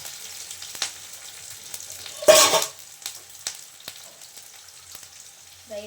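Curry leaves fry in oil for jhunka in a Maharashtrian home kitchen, with a quiet background crackle and one sharp, loud burst of sizzling partway through that soon fades back to a low spatter.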